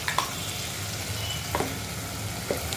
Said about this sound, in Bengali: মশলাটাকে ভালো করে তাকে যতক্ষণ তেল না বেরোচ্ছে ততক্ষণ এটা ভাজতে হবে